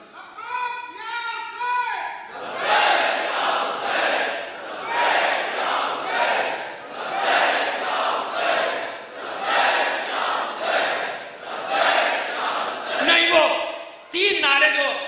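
Crowd at a Muharram majlis chanting religious slogans in unison, loud and close, in repeated rhythmic bursts roughly every two seconds; a single voice leads at the start.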